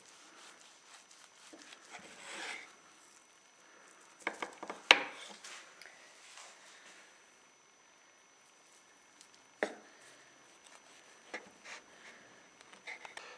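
A knife trims the ends off a pineapple Yule log cake, giving a few soft, scattered taps and scrapes on a board, mostly quiet with sparse sharper clicks and no talking.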